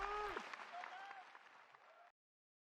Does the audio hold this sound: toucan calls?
no